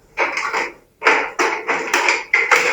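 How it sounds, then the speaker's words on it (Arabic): Plastic clips on the front cover of a Union Air air conditioner snapping into place during reassembly: a string of about six sharp, close clicks and snaps, each followed by brief rattling, with no voices. "زي ما حضراتكم سامعين اللي هو صوت الكليبس لما بيخش على بعضه"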